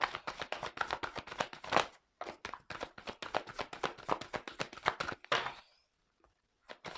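Tarot cards being shuffled by hand for a reading: rapid, steady riffling taps in close succession, a brief pause, then more shuffling before it stops into near silence.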